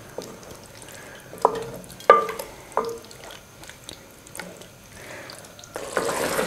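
Chicken liver and gizzard sizzling in masala in a pan, with a faint steady fry broken by several sharp stirring scrapes and clacks, close and fairly quiet, with no one talking.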